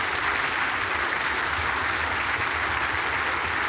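A standing crowd gives dense, sustained applause at the 2024 World Indoor Bowls Championship match, a steady wash of clapping that holds evenly from start to finish with no voices above it.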